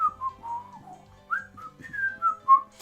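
A melodic whistled tune of several short notes rising and falling in the video game Higurashi, clear and close, with faint low background sounds underneath.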